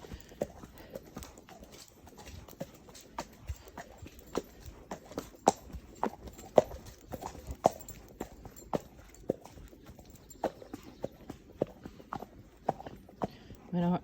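Fjord horse in training walking with steady rhythmic hoof clops on firm ground, close and evenly spaced, with talk nearby over the steps.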